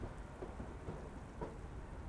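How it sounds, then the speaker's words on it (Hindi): Faint, muffled thunder rolls low beneath a steady hiss of heavy rain, heard from aboard the Kanchanjunga Express train, distant and quiet throughout. "सुन रहे हो बादल का गरजना"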